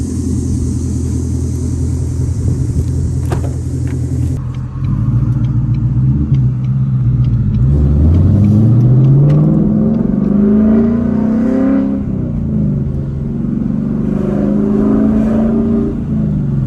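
A loud Ford Mustang GT V8 engine rumbles deeply, revving up and pulling away with rising pitch, heard from inside the car.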